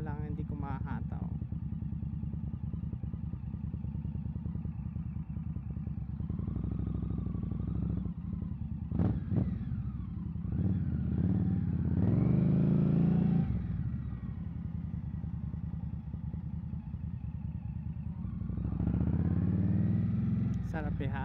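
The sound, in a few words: cruiser motorcycle riding, engine running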